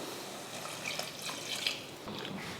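Water splashes into hot masala oil in a pan while kurma is cooked, a soft, irregular trickle and patter with faint sizzling at low level.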